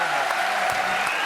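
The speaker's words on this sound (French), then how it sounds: "applaudissements pour monsieur Rumen" A TV studio audience applauds a guest on a French talk show, a brief, even, dense burst of clapping, moderately loud, with a faint voice briefly underneath.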